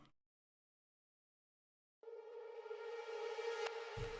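Silence, then a sustained, low-pitched tone, pitched down a couple of semitones, swells in and rings on with delay repeats, reverb and a bright shimmering wash above it.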